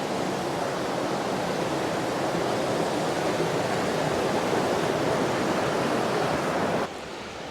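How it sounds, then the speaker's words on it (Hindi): Dudhsagar waterfall in Goa sends a loud, dense, continuous roar of rushing water that stays steady throughout, heard close by with no voices over it. "कितना सुंदर वाटरफॉल का पानी आने लगा"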